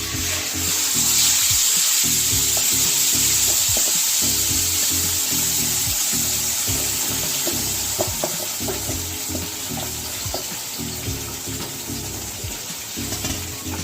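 Green chillies and banana flower sizzle steadily in hot oil in a pan, with continuous frying hiss and occasional stirring clatter close up.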